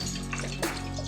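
Water poured steadily into a pickling brine mixture, a continuous close splashing flow with a brief louder gush partway through.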